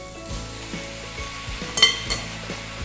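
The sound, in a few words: noodles added to sizzling vegetables in pan for Pad Thai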